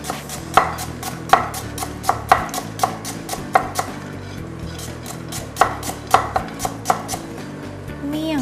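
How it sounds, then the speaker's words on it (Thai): A knife slices lemongrass on a cutting board in a kitchen, a brisk series of close, crisp chops, about two or three per second, with a short break partway through. "เดี๋ยวผมซอยตะไคร้ไว้นิดนึง"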